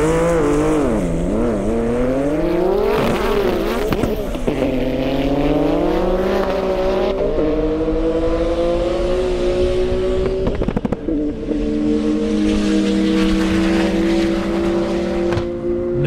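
A 2,000-horsepower Porsche drag car on an airstrip launching hard, its engine a loud, close roar climbing through repeated gear changes before settling into a sustained high-speed drone.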